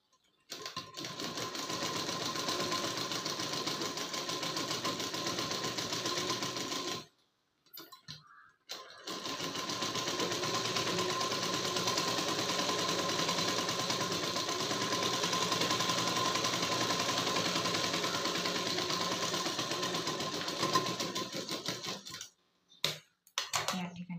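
A sewing machine stitches a prince cut blouse in long, steady, continuous runs, with a short pause partway through and a few brief stops at the end, close and loud with no talking.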